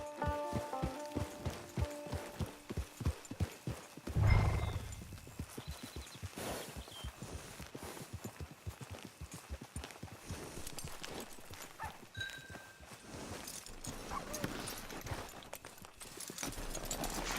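Horse hooves clip-clop in steady, repeated beats in Red Dead Redemption 2, mixed with other game sounds and ambience. The hoofbeats are clearest near the start.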